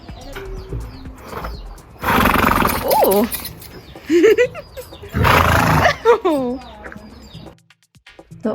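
A horse at a tour stable whinnies several times, loud and close, its neighs rising and falling between stretches of noisy breath and rustle, with a person talking briefly.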